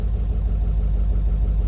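High-mileage Ford 7.3 Power Stroke diesel truck engine idling, a steady, close, heavy low rumble with a rapid, even clatter ticking over throughout.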